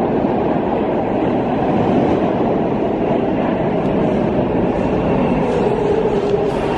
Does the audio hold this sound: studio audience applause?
no